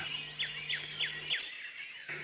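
Bird calling outdoors, four short, quick chirps repeated at an even pace over a faint background hum, fairly distant and alone with no voices.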